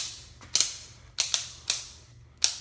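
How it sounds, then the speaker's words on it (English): A torque wrench being set up to 35 during the teardown of a Ford 302/5.0 crate engine, giving a series of sharp mechanical clicks in irregular pairs and singles, close and alone. "bump our torque wrench up to 35"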